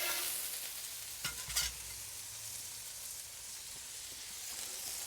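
Butter sizzles softly as buns toast on a Solo Stove Steelfire griddle, a quiet steady hiss with a couple of brief scraping clatters early on, heard alone without voices.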